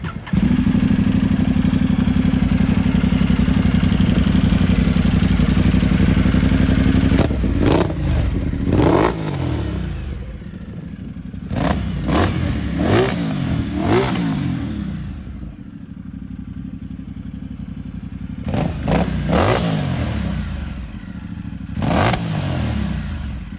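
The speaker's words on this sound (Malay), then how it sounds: "Bunyi Termignoni, bunyi macam mana?" A Ducati Multistrada 1200 Enduro from 2019 with a Termignoni exhaust idles with a deep steady burble, then revs in a series of sharp throttle blips with crackling decay, close and loud, alone.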